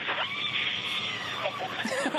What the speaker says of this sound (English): Hear that screaming inside the capsule?